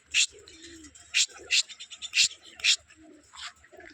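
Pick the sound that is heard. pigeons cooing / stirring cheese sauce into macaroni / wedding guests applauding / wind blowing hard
pigeons cooing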